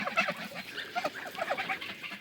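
A flock of geese honks and cackles close by, overlapping calls chattering continuously in a busy, noisy cluster.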